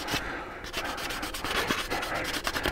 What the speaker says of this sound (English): this is just a 400 grit sanding block